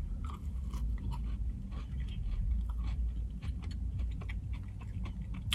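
A maple donut is bitten and chewed close to the mouth, with soft, steady mastication noises running throughout and no talking.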